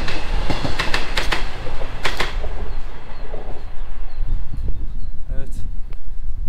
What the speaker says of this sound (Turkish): Evet, tren geçiyor.